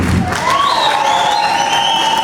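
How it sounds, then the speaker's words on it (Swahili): An audience at a church gathering applauding and cheering, a loud crowd roar with clapping and a sustained tonal whoop riding over it throughout. "Tupige Bwana makofi mengi."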